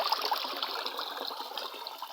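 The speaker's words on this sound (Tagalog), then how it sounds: "Malakas yung agos ng tubig kasi maulan." Fast, rain-swollen stream rushing past, a steady close hiss and gurgle of flowing water, faint and alone without any voices.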